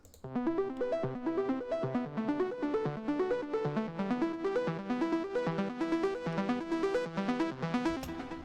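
A bright electronic lead synth plays a quick, bouncing melody of repeated notes in a deep trance chill house track, steady and moderately loud, with no one talking.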